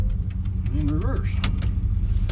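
A 1989 GMC service truck idles and rolls in reverse with a steady low engine rumble, a rising mechanical whine and a few clunks, while a person talks nearby.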